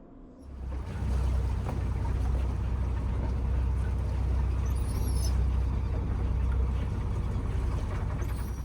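A cruising boat's engine drones steadily and loud in a low rumble, running at about 6 knots on the way back to its marina in northern British Columbia on the Pacific Northwest coast in winter.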